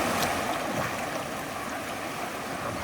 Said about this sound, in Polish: Zimny strumień górski.